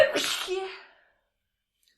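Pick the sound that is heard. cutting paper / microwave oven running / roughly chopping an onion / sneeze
sneeze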